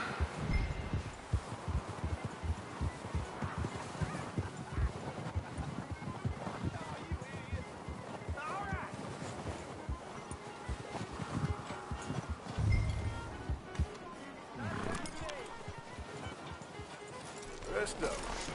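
Horse hooves clip-clop steadily in a video game as riders arrive to hitch up, a continuous rhythmic plodding under a busy ambient bed with people talking.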